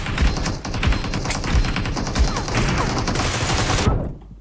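Groza rifle fire in PUBG Mobile, a dense, loud run of rapid automatic shots with a steady rhythm over about four seconds, cutting off abruptly near the end.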